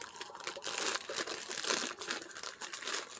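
A plastic mailer bag from a Temu order is torn and pulled open by hand, a close, continuous crinkling and rustling with brief crunches.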